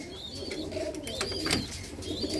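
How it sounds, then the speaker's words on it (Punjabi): Pigeons from a Punjabi breeding loft coo and chirp in scattered bursts over a constant background hum, several birds calling near and far with no one talking. "ਖਟੀਆਂ ਅੱਖਾਂ ਦਾ ਤੇ ਕੱਚੀਆਂ ਪੀਲੀਆਂ ਦਾ ਇਹ ਕਬੂਤਰ ਆ ਬਾਈ"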